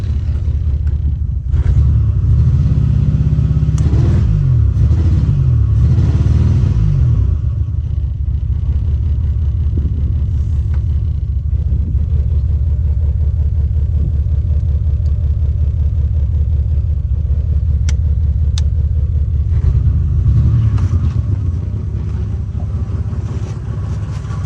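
A long-abandoned 1986 Nissan Maxima wagon idles roughly with a fuel leak and almost no gas, a loud, uneven low rumble that surges briefly near the start before settling into a steady, lumpy drone.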